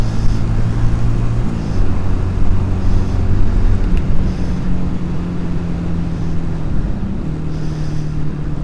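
A Honda CD200 motorcycle engine runs steadily and close by, its low droning note shifting pitch a few times as it is wound up through the gears, with no talk over it.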